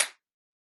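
A single sharp hand clap during a nursery rhyme movement activity, one crisp close smack that decays quickly into silence.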